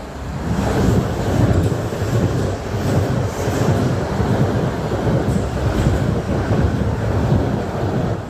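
A passenger train on the London Waterloo to Weymouth line in southern England rolls past close by. A loud, steady rushing rumble of wheels on rails lasts the whole time, with no speech.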